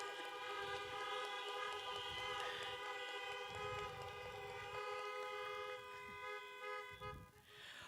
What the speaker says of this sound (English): Can I get some honks for the unions,